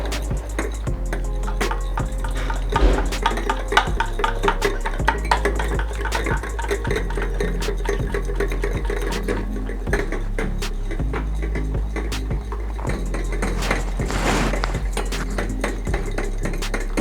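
Egg, paprika, salt and black pepper being mixed in a bowl for crispy chicken fingers, a steady run of stirring, tapping and clinking of utensil against dish, close and continuous with no talk.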